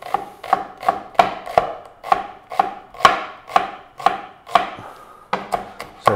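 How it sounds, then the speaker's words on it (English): A knife chops through an onion on a board, about a dozen crisp, evenly spaced strikes close up, with a short pause before the last few. "So chopping the onion."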